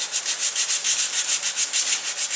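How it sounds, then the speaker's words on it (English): A wooden Lakefield rifle stock is sanded with the butt plate left on, taking off deep-set stain. The close, steady back-and-forth strokes repeat in a quick, even rhythm with no voices. "when I'm sanding a stock like this, I leave the butt plate on"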